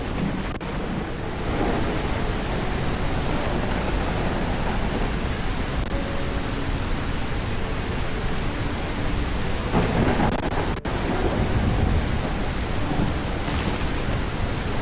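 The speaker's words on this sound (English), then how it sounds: "Our food gone, and a storm exploding overhead." A thunderstorm with heavy rain in The Isle dinosaur survival game, a loud continuous roar of rainfall with rumbling thunder swelling and a sharp crack near the middle.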